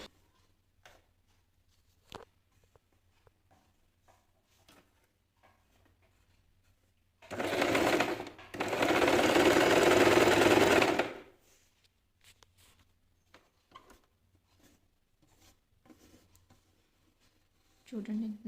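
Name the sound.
Usha Janome sewing machine sewing a normal stitch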